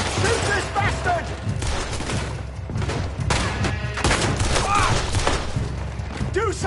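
Rapid gunfire bursts in a Red Dead Redemption 2 shootout, loud and dense throughout, mixed with shouting voices and game music.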